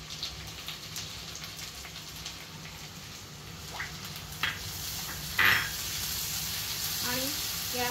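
Capsicum and carrot sizzle as they're stir-fried over high flame in a pan with onion for corn rice, a steady close hiss with a few sharper crackles and clinks of a utensil.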